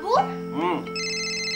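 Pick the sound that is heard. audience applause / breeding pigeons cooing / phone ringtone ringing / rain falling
phone ringtone ringing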